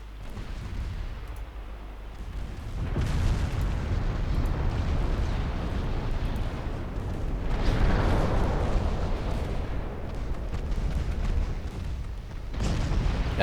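Torpedo hits exploding against the battleship Alabama in a naval warfare video game produce deep, rumbling blasts that swell and overlap in a continuous heavy roar, with fresh booms rising at intervals.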